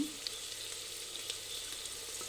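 Onions and turmeric sizzle in hot oil inside a pressure cooker for chicken chops, a steady, close, even hiss with a few faint pops and no talking.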